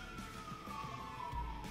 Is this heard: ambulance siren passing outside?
yes